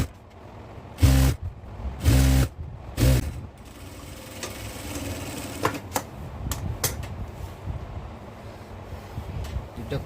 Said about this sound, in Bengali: তার উপরে এক সমান করে সেলাই দিতে হবে